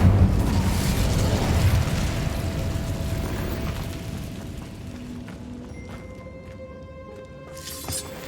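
A fire spell bursting in the Hogwarts Legacy video game, a loud whooshing blast that rumbles and then fades into a crackling, ringing tail with brief metallic chimes.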